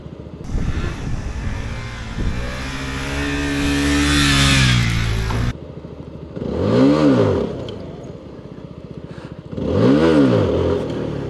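Older, somewhat beat-up CFMOTO 250SR motorcycle engine revving up high and then blipping twice more, loud and close, with rising and falling pitch between idling stretches.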